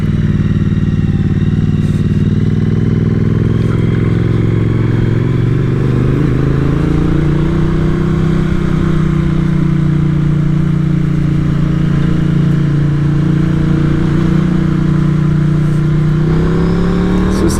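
A Triumph Street Twin motorcycle engine climbs a steep Cornish hill, a loud, steady close-up drone that rises and falls slightly in pitch under load, with wind rush throughout.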